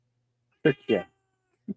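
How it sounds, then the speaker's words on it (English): A pet cat named Ariel meows close by: two clear meows in quick succession, then a short third chirp, with a few quiet spoken words in between. "And that's my cat, Ariel."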